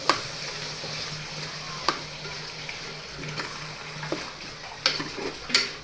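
Gentle sizzling with intermittent scraping and clinks as soaked lentils are stirred into a pan with bottle gourd.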